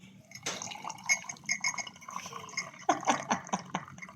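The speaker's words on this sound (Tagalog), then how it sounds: "Lagyan na natin ng tubig." Water poured into a cup to make coffee, a trickling, dripping fill with a few brighter splashes toward the end, fairly quiet and close, with no talk over it.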